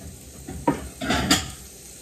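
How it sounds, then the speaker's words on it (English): A mixing bowl and dishes are handled in a home kitchen during French toast prep, with a few quick clinks and clatters up close and no talking. "And then I'm gonna get a mixing bowl."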